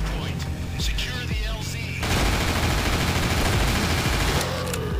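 Dense, loud bursts of video game gunfire from Nightmare House 2, rapid overlapping shots forming a sustained fusillade for several seconds with brief pauses, close up.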